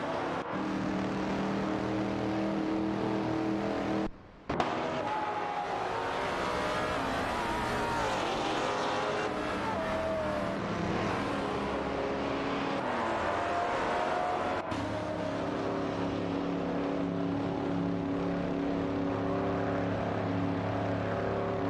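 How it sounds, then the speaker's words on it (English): Engine roar from a video game race where a Chevrolet Corvette C2 Z6 and an Oldsmobile 442 battle for position, a loud continuous drone with shifting whines and a brief dropout partway through. "The battle between Isioni 1212, driving a Chevrolet Corvette C2 Z6, and Cedric in an Oldsmobile 442, is heating up as they jockey for position"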